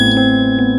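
A bright notification bell ding rings loud and close over a steady tonal hum in a short burst.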